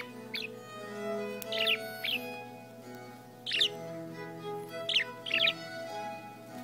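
A pet bird chirps indoors in short, bright bursts, about six clusters of quick tweets spread across a few seconds over a steady low household hum, fairly close and moderately loud.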